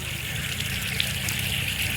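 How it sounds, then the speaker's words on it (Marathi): Water runs from a tap for hand washing, a steady gushing stream that flows evenly and fairly close, with no talk over it. "हात धुवायला पाणी."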